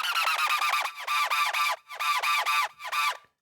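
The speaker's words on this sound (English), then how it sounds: "It's kind of like scratching on a DJ deck almost." A harmonic EDM synth with a scratchy, DJ-deck-like character chops out quick squeaky stabs, stacked bright harmonics in a stuttering rhythm with brief pauses, loud and alone.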